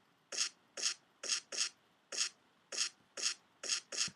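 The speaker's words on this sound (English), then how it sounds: "this kick has a very nice noise in it." A noise kick drum sample in a beat fires as ten short hissy thumps in a loose steady rhythm, each a brief bright noise burst, fairly faint and alone.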